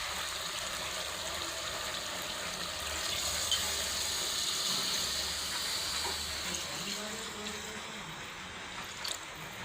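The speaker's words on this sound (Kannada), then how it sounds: "ಇದಕ್ಕೆ ನೀರು ಹಾಕೊಂಡ್ಬಿಡ್ತೀನಿ" Water pours steadily into a cooking pot of spiced oil for several seconds, a continuous splashing gush with no talking.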